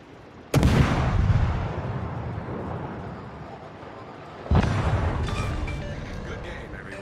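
Naval gunfire in a warship video game: two heavy, booming salvos about four seconds apart, each with a long rumbling decay under faint game sounds.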